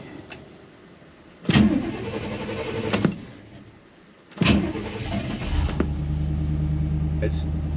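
Chevrolet G20 van cranking and firing up in freezing weather about 28-30 degrees, two sharp start attempts with the second catching into a steady low idle rumble, recorded close by.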